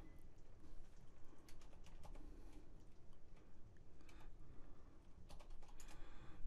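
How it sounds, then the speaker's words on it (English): Keys clatter on a computer keyboard as an address is typed into a spreadsheet cell, in quick irregular bursts of light clicks that are fairly faint and steady, with no voices. "I'm going to type in my address"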